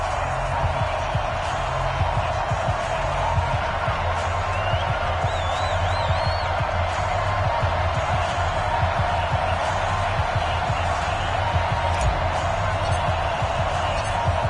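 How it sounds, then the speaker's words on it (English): A crowd in an EA Sports football video game, a Kansas City Chiefs versus Dallas Cowboys matchup, cheers in a steady, dense stadium roar throughout with occasional whistles and whoops, fairly loud and unbroken. "This crowd is ready as their guys get set to match up"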